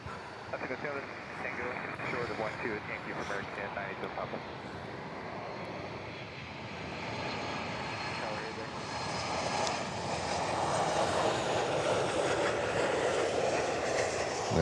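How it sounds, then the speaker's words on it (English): A 42-year-old Boeing 767-200 jet approaches to land at Miami airport, its engine roar building gradually from moderate to loud, partly under people talking. "767-200 coming in. There we go, the oldie."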